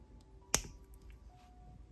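Leather cord trimmed for a charm bracelet: a single crisp, close snip from the cut, then quiet room tone.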